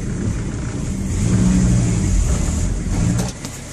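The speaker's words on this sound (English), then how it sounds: "Come on, speed bumps, you can do it." A VW T4 Transporter camper van with only two working gears drives over speed bumps, its engine a steady loud droning rumble with a mild surge in effort midway before easing off, close and alone.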